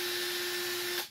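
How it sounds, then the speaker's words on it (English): Cordless power drill set to forward, running at a steady high-pitched whine for about a second before spinning down. "I have my trusty drill here, and it's set to forward."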